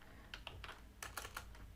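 Fingers tap a computer keyboard while entering JavaScript code. The quiet, scattered clicks sound close but faint, over a low background hum.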